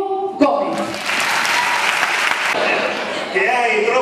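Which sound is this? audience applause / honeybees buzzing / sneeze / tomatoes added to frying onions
audience applause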